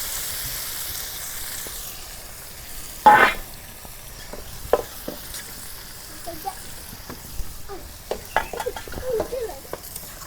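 Chopped onions drop into hot oil for a Bengali mola fish and potato chochchori, giving a sudden sharp sizzle. A softer frying crackle follows, with scattered clicks and scrapes of stirring.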